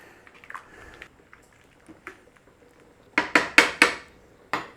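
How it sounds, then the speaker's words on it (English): Ingredients for a Branston-style pickle stirred in a pot: faint soft scrapes and taps, then a burst of five loud, sharp metallic clanks from the spoon against the pot. "Now stir it in."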